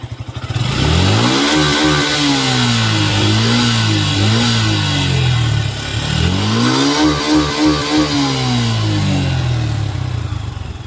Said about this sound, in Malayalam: അപ്പോൾ നമ്മൾ വണ്ടീൻ്റെ എക്സോസ്റ്റ് സൗണ്ട് ഒന്ന് കേൾക്കാം